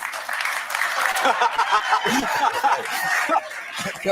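A live audience at a talk on men and society reacts with a mix of cheering, laughter and scattered clapping, a dense crowd noise that holds steady throughout with a speaking voice mixed in.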